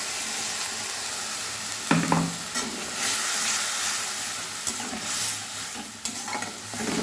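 Ground spice paste of onion and garlic sizzles in a pan with softened fried tomatoes for a Bengali chang fish dish, a steady hiss broken by several sharp scraping stirs of a spatula.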